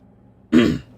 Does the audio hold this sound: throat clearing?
yes